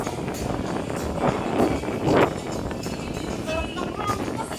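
Gusty wind buffets the microphone, a low rushing roar with a couple of stronger blasts, while voices speak faintly underneath.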